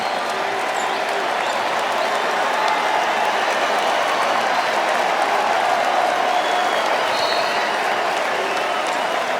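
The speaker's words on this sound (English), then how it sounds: "On a night where NBA history was made, Stephen Curry, standing ovation." An NBA arena crowd gives Stephen Curry a standing ovation during a Golden State Warriors game against the Kings, with loud, dense applause and cheering that roars steadily from start to finish.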